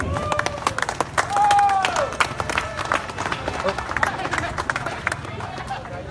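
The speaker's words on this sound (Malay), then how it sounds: "beri tepukan yang gemuruh pada Tan Sri" Crowd claps and cheers to welcome Tan Sri at an outdoor political rally in Paloh, Johor, a dense, busy wash of clapping and hubbub with a brief whistle-like tone rising above it.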